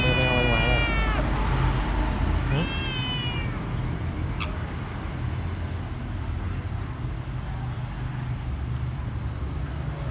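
A cat gives two long, wavering meows close by at the start, then falls quiet while steady road traffic rumbles underneath.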